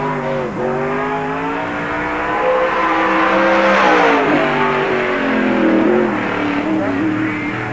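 Loud and close, a 1997 NASCAR stock car roars around Park Jefferson Speedway, the engine pitch rising and falling as it accelerates and eases through corners in one continuous pass.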